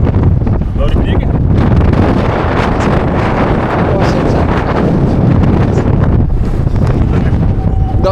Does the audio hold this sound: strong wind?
yes